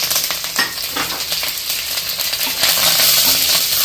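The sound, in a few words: mustard, fenugreek, curry leaves, red chillies frying in sesame oil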